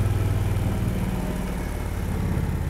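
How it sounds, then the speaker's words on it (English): A 2020 Indian Challenger motorcycle engine runs steadily while riding, with a deep, even rumble, holding a constant idle-like tone throughout without talking. "just enjoying the ride and listening to some of the sounds of this engine"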